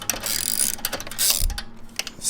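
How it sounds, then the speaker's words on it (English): A ratchet clicks in quick bursts while loosening the exhaust collar on a 2020 Kawasaki ZX-6R during a slip-on install, close up and fairly quiet, with brief pauses between strokes. "I'm going to loosen this collar up underneath"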